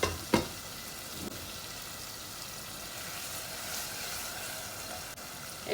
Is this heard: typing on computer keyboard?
no